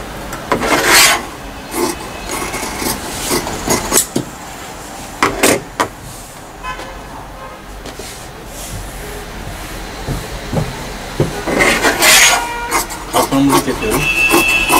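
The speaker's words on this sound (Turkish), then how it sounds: "Kapanımızı kesiyorum." Scissors cut through tracksuit fabric to shape a facing piece during sewing, giving intermittent close rasping and snipping bursts separated by quieter handling of cloth.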